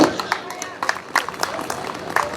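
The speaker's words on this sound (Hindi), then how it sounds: "कृपया जोरदार ताली बजा के उनका स्वागत कीजिएगा।" A crowd at a Hindu Garjan political rally in Chhindwara claps to welcome a speaker onstage, giving steady, dense applause with scattered sharper claps and some background voices.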